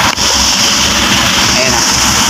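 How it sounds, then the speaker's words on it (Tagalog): Isuzu 4HF1 truck diesel engine running steadily at idle in a workshop, a loud continuous rumble with a brief dip near the start, no shutdown heard. "So ito, i-off na natin yung makina."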